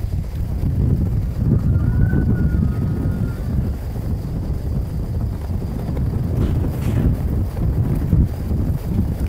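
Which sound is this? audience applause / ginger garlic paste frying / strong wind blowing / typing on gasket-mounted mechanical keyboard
strong wind blowing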